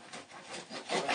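An IKEA bread knife saws through a loaf of homemade bread-machine bread, giving a soft, steady rasping scrape in several quick strokes that grow slightly louder toward the end, close up with no voices.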